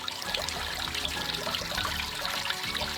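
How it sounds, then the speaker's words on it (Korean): Water from a small waterfall splashes onto rocks and gathers in a pond below, a steady, continuous rushing trickle close by with no voices. "바위에 부딪히며 산산이 부서지는 하얀 물방울들이 폭포 아래에 모여 작은 연못을 만들고 있는데요"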